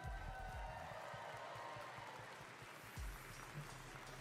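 Audience applause fills a hall at the 2025 Pokémon World Championships, a steady wash of clapping from a large crowd, fairly distant and sustained across the whole stretch.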